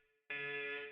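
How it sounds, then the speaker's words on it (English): A video game alarm blares suddenly after a quiet hum, a loud steady electronic tone with rich harmonics that holds without a break. "that's the alarm"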